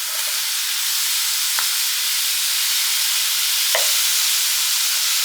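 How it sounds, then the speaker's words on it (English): Ground meat from a tube frying in a pan for dirty pasta, a steady loud sizzle and hiss throughout with two brief scraping stirs as it is broken up. "Now you can just break the meat up and let it cook a while until it's brown"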